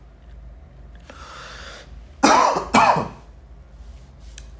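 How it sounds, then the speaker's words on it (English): A man clears his throat and then gives two sharp, loud coughs close to the microphone during a lecture, with quiet breathing before and after. "trademark cough at this point"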